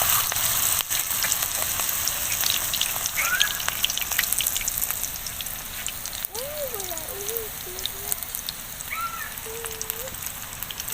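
Battered coriander-leaf pakoras fry in hot oil, giving a steady, close crackling sizzle that runs throughout, with brief whistle-like tones from the surroundings above it.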